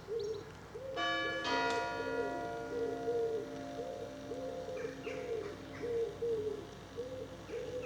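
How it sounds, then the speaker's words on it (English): A church bell chimes the quarter after six in a quiet village. Two ringing strikes sound at moderate distance and hum on, while a pigeon coos steadily nearby. "You may just have heard the chimes going."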